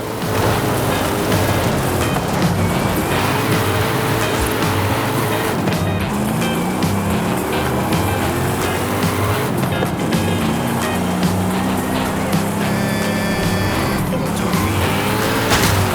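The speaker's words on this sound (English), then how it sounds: "This car is too old for this kind of driving!" An old car in the Forza Horizon 5 racing game is driven hard, its engine droning and revving steadily with tire noise and shifting pitch throughout, loud and continuous.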